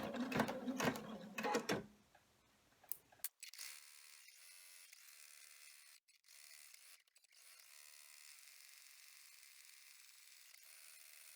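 An embroidery machine stitches the final stitch of an in-the-hoop bag, starting with a short burst of mechanical tapping and then settling into a steady, fairly faint motor whir with brief breaks, heard close without any voices.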